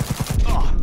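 Rapid burst of gunfire in the video game Cyberpunk 2077, a few quick loud cracks in under a second, close and punchy.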